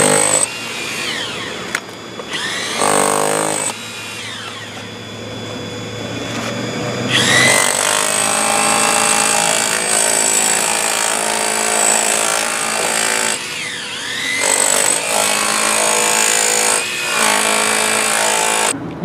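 Hilti TE 500-A36 cordless breaker hammering into concrete: a loud, sustained rattling pound runs in long bursts separated by short pauses, close and dominant.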